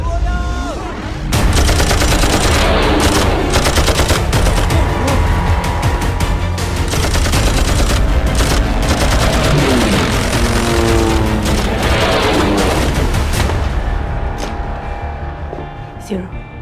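Loud, sustained bursts of gunfire and heavy battle noise from a war film scene, continuous and dense with engine-like rumble underneath.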